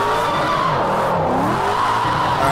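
Sustained tire squeal from a 900hp RTR Formula Drift Mustang sliding sideways in Project Cars 2, a continuous wavering screech over a steady engine roar, loud and close throughout without talk.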